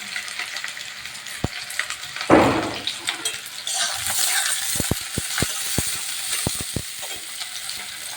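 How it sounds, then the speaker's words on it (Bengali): Chopped onion and green chilli dropped into hot oil in a pan, sizzling steadily with a loud burst as they hit, then crackling and stirring clicks, no talk. "কড়া তেল গরম হয়ে গেছে দিয়ে দেবো পেঁয়াজ কুচি পেঁয়াজ কুচি আর লঙ্কা কুচি"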